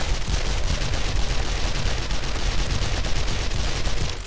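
Rapid automatic gunfire from a weapon in the zombie survival video game 7 Days To Die, a dense continuous burst of shots at steady loud level for the whole stretch.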